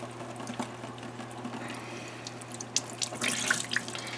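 Water runs from a tap as a rabbit hide is rinsed beneath it, with a steady low hum, soft splashing and a few brighter splatters and sloshes near the end, fairly quiet and close.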